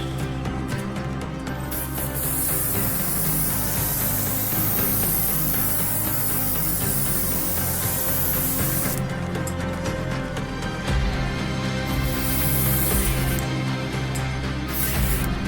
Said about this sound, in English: Now we can go ahead and spray some gold on these parts.